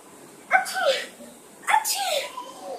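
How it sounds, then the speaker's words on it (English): A person lets out two loud, theatrical sneezes about a second apart, each a sharp voiced burst trailing into a breathy exhale, close to the listener in a quiet room. "Achoo!"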